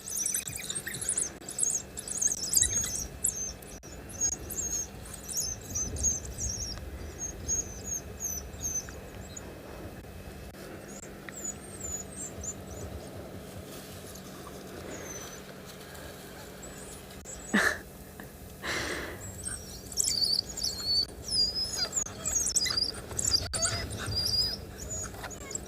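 African wild dogs on a South African safari give faint, high chirps, squeaks and whines in scattered bursts over quiet bush ambience, with a few sharper calls later on.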